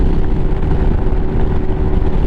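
A Lifan KPM 200 motorcycle engine roars at high revs in sixth gear while riding fast on a flat road, a loud, steady drone with heavy wind rumble and no breaks.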